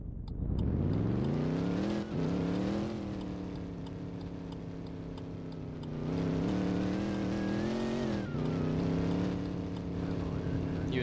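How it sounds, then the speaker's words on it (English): A Ford F-150 truck in Roblox, its engine a steady droning hum that climbs and dips in pitch as it revs and drifts, loud and continuous with no voices. "Watch this drift."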